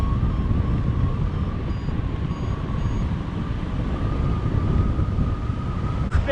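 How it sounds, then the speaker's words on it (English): Wind roars steadily past a hang glider flying high over a hill in New Zealand, a loud, unbroken rush with a faint steady tone running beneath it. "Bit of wind up here."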